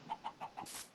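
Chickens on a Minecraft chicken farm give four quick, evenly spaced clucks, close and clear, followed by a short breathy hiss.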